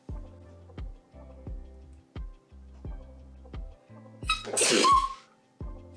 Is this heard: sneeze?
yes